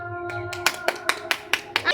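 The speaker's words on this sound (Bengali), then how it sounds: "হাততালি" Quick, steady hand claps, about eight in a row, ring out close by after a voice at a panipuri (fuchka) eating challenge.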